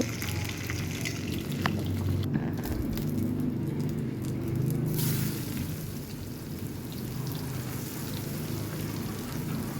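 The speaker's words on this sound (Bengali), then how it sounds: "ডিমগুলো ভেজে নিচ্ছি, হলুদ দিয়ে ডিমগুলো ভেজে নিব" Eggs fry with turmeric in hot oil in a home kitchen, giving a dense, continuous sizzle and crackle that stays fairly loud and close throughout, with no one talking.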